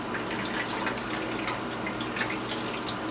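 Water pours in a steady splashing stream into a lasagna pan over tomato sauce, continuous and moderately close with no voices.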